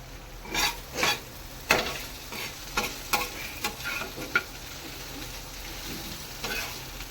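Okra sabzi stirred in a frying pan with crushed peanuts mixed in: a spoon scrapes and clatters in several distinct bursts over a steady low sizzle, fairly close, with no voices.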